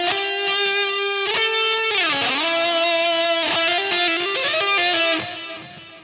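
Distorted electric guitar lead line with slides, bends and fast tapped runs, played loud and up close for about five seconds before fading out.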